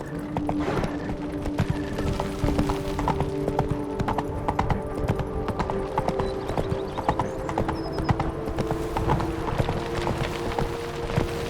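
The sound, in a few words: horse galloping hooves in video game The Witcher 3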